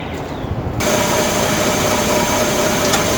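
Small boat engine started up, then running at a steady idle, a faint low hum jumping to a loud continuous drone partway through, close and alone.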